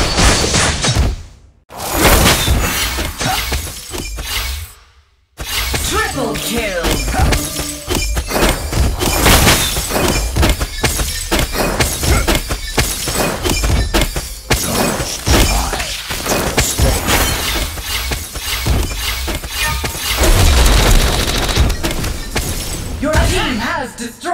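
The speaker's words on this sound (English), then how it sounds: "Your team has destroyed a turret." A turret is destroyed during a ranked Legend of Ace match played as Odysseus: loud, dense game combat with shattering crashes, whooshes and thuds packed together almost continuously, broken by two brief near-silent gaps, with voice audio mixed in.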